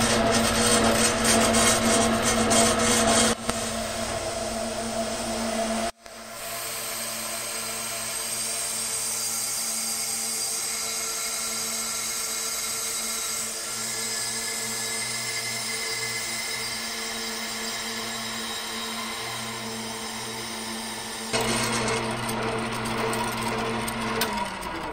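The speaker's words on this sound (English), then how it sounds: "Got this old horizontal bandsaw and it let it rip." Old horizontal bandsaw cutting metal pieces for a battery cradle in a Mitsubishi 3000GT electric swap, a steady droning whine with a grinding edge that runs continuously, shifting tone twice as the cut proceeds.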